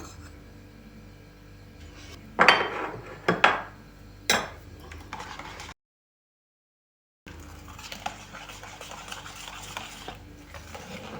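A whisk clatters against a bowl in a few quick sharp bursts, then a brief silence, followed by steady fainter scraping and mixing of five eggs with flour and cornstarch.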